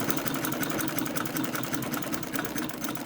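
A domestic treadle sewing machine stitches a fabric face mask, giving a continuous, close, rapid mechanical whirring and clatter with no pauses.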